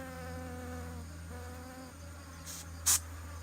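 A hive of bees buzzes steadily nearby, a continuous droning hum throughout, with a brief louder sharp burst near the end.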